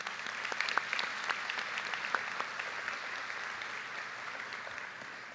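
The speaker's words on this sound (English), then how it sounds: "Another round of applause for the class of 2023." Audience applause at a school commencement ceremony, a soft, distant wash of many hands with a few sharper claps near the start, holding steady for several seconds.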